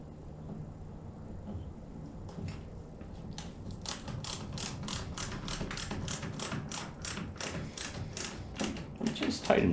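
Screws being driven into a kayak hull to fit a YakAttack LeverLoc anchor trolley, heard as a steady run of rapid ratcheting clicks from a hand driver, close by and continuous for several seconds.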